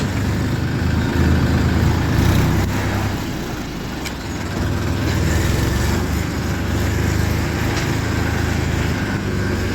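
A tractor with a trolley engine rumbles steadily and loudly nearby in a low, continuous drone, easing slightly for a moment before settling back to a constant idle.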